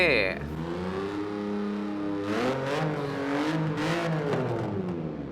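Synthetic engine sound of a BMW i8 hybrid supercar accelerating in Forza Horizon 4, a smooth rising electronic whine that climbs in pitch, under steady speech throughout.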